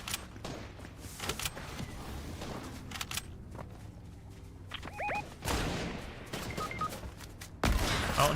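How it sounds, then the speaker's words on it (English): Gunfire in the Fortnite video game, with scattered rapid shots and bursts at a moderate distance. Sharp clicks and a few electronic game tones are mixed in, with a louder burst near the end. "I don't know what I was shooting at there."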